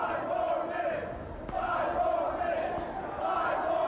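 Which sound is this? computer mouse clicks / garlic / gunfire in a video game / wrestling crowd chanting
wrestling crowd chanting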